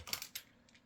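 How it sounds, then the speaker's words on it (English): A handful of quick, faint keystrokes on a computer keyboard while typing commands for a Dell PowerEdge T310 server, with no talking. "I'm just typing commands and stuff."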